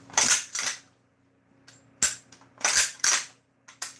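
A 10 gauge lever action shotgun being racked, its heavy action cycling in a few sharp metallic clacks with short pauses between them, close and loud in an otherwise quiet room.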